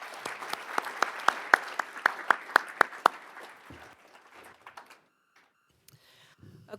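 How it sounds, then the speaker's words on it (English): Audience applause at a school board meeting celebrating the school district, a loud burst of clapping with a few sharp hand claps standing out, tapering off after about four seconds into quiet room noise. "if we can give them one more big round of applause tonight"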